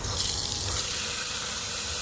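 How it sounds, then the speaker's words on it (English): Water gushes under high pressure from a newly installed 1/2-inch hose bib, a steady loud broadband rush and hiss that holds without pause throughout, with no talking over it. "That's some serious water pressure."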